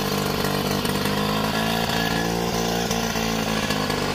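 A 103 motorbike engine with an oversized jet idles close by while the throttle is held slightly open, giving a loud, steady, buzzing drone throughout.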